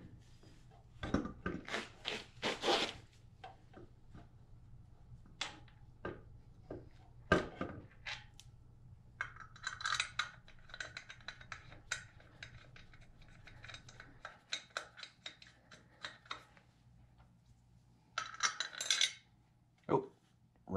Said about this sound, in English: you don't need to watch me put all these bolts back in